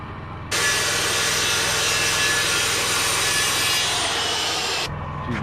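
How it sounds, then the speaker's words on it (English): A big saw cuts a recess in wood for a post and beam truss, a loud, continuous rasping cut lasting several seconds, starting and stopping abruptly, close by. "You can see I didn't go quite deep enough with the big saw."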